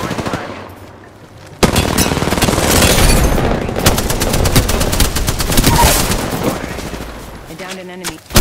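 Rapid automatic weapon fire at a target in Apex Legends starts abruptly and stays loud and continuous through most of the stretch, and a few voiced tones appear near the end.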